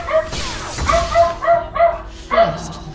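A dog barks repeatedly in quick sharp yips over a player's microphone during a League of Legends match, about half a dozen close, loud barks in an uneven rhythm.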